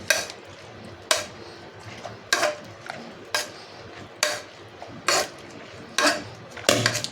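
Cooked shevla, a wild monsoon vegetable, whisked in a pot: evenly spaced scraping strokes about once a second, each a sharp attack that fades, close and unaccompanied by speech.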